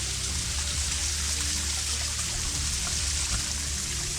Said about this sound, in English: Could be standing on top of a small waterfall right now.